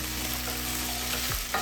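Carrots and chilies cook in a pot of Kenyan-style beef stew, giving a steady close sizzle and bubbling with a brief scrape of stirring near the end.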